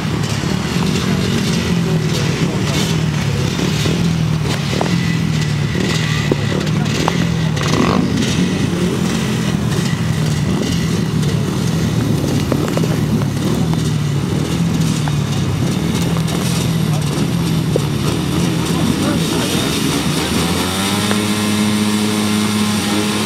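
A pack of 250cc solo motorcycles races on a grass track, with engines droning and revving steadily at mid distance for the whole stretch, and a single bike's engine rising more clearly near the end.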